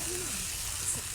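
Potatoes frying in a pan give a low, steady sizzle that holds evenly for a moment, close and faint, with no talking over it.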